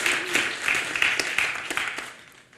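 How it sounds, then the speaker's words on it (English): A conference audience at a web development talk gives itself a round of applause; a moderate crowd claps in a lively, uneven patter that gradually thins and fades out over a couple of seconds. "give yourself a round of applause"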